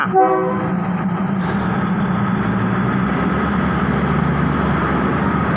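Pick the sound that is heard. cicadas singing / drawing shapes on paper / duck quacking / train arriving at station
train arriving at station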